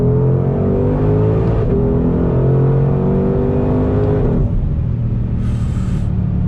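A 2020 Ford Mustang Shelby GT500 engine revs hard on throttle, a loud, close, continuous roar that climbs in pitch, drops briefly at a shift, then climbs again.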